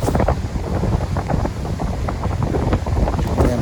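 Speed boat running from the Gateway of India to Mandwa, with a loud, steady roar of engine, rushing water and wind buffeting the microphone throughout.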